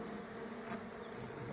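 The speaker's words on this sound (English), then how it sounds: "I'm gonna blow on these bees some, just a little bit, just so that they could start heading back into the hive." Honeybees buzz densely around an open hive, a steady close-up hum of many wings filling the clip without voices.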